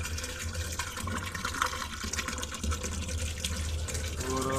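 Water pours steadily into a large container holding about 10 to 15 liters, a continuous splashing rush with a rising fill tone near the end, while preparing Arq Brinjasif.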